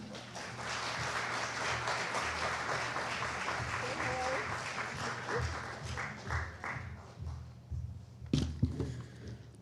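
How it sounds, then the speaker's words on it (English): An audience gives a round of applause for a poet, a steady wash of clapping that holds for several seconds and then thins into scattered claps, with some voices mixed in and a sharp thump near the end. "Please give a big round of applause to Akshay."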